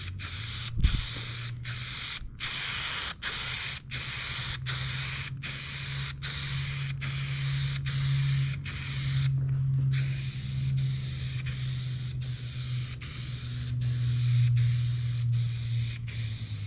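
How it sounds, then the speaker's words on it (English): Spray adhesive hissing onto seat cushion foam for a 215HP JetJon boat, a loud close continuous spray broken by many brief regular pauses, steady through the whole stretch. "I got some spray adhesive. I'm gonna spray that on both sides."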